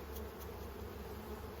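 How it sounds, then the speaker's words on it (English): Honeybees hum at an open beehive in a continuous, even drone, close and steady, with no voices. "This is the Alexis and Levi hive."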